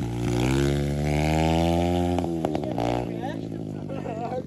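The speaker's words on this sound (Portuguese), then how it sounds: "tu segura uma acelerada da moto" A mini motorcycle engine revs hard and buzzes loudly, its pitch rising and then dropping as the throttle eases off, and excited voices talk over it near the end.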